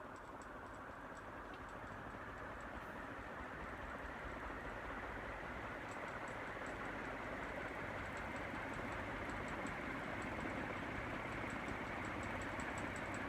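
A 2001 Banvil Envirofan heavy-duty Gold Line industrial ceiling fan runs on its fastest speed, making a steady whooshing hum that builds slightly, with a faint repeating tick over it.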